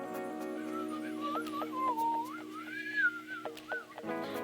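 A person whistles a wavering, gliding tune to imitate the wind, held mostly alone and at close range for about four seconds.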